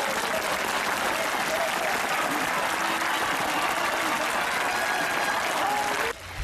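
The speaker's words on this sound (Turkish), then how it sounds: "alkışlarla karşılandı." A crowd gathered for the funeral arrival of a man named Ali in the town of Ekincik applauds loudly and steadily for about six seconds before it cuts off abruptly.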